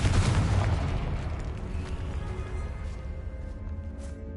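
A Confringo blasting spell explodes in the Hogwarts Legacy video game, one loud booming burst at the start that rolls off into a long, fading rumble.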